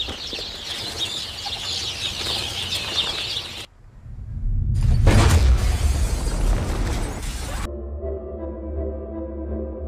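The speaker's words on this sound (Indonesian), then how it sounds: "tiba-tiba saja terdengar suara gemuruh diikuti gelombang kejut" A comet impact in a film: a sudden deep, booming rumble and shock wave swells to a loud roar midway, cutting off abruptly before a quieter, lingering tone.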